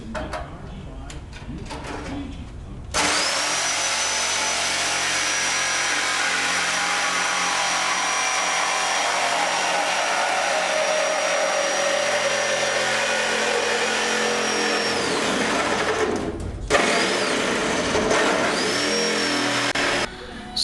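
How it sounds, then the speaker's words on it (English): A Sawzall reciprocating saw cuts through the passenger-side sheet metal of a first-generation Camaro, a loud, harsh, continuous buzz lasting about thirteen seconds before a brief pause and a restart. "I think I'm going to go ahead and cut the passenger side out with the Sawzall."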